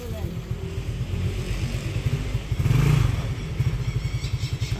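A motorcycle engine idles with a rapid, steady putter, then revs up briefly in a louder surge before settling back into its pulsing idle, close by outdoors, with people talking over it.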